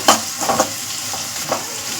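Fried rice is stirred and tossed in a hot pan after spice powder goes in, with fresh green chillies already added. Scraping stir strokes come in a few uneven bursts over a steady close sizzle, with no talking.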